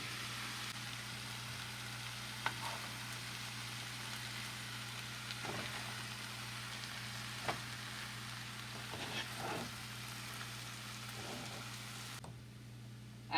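Quiet, steady sizzling of potatoes frying in a pan, with a low hum underneath and a few faint clicks and stirring sounds.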